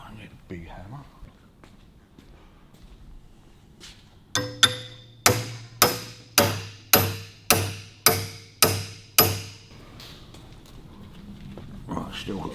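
Hammer blows on a spring steel front stand being bent to fit the rear of a Harley Davidson WLC, eight loud ringing metallic strikes at a steady rhythm, each with a short ring, between quieter shuffling sounds.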